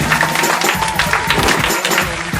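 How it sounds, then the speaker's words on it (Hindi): A crowd claps for children being called forward as winners, a steady dense patter of hands that carries on without a break, with faint voices mixed in. "इनके लिए ताली बजाइए"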